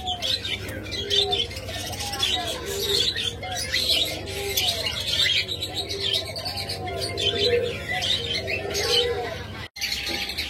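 A pair of conure parrots chirp and squawk repeatedly at close range in a busy, irregular series of calls over a low background hum, with some speech mixed in.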